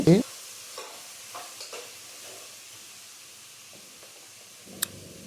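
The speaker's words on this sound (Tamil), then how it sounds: "நல்லா கொஞ்சம் எண்ணெயில் பொரிக்கிறோம்" Vegetables fry in oil with a faint, steady sizzle, broken by a few soft stirring scrapes and a brief clink near the end.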